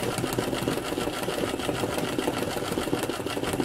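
A sewing machine stitching free-motion landscape embroidery, scribbling foliage on fabric, runs in a steady, fast, continuous whir close by with no pauses.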